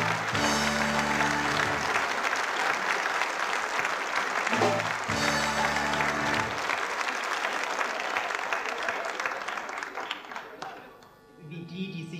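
Sustained audience applause for performer Peter Kuhn at a 1993 Schwarze Elf carnival show, loud steady clapping from a large crowd with band music mixed in, fading toward the end.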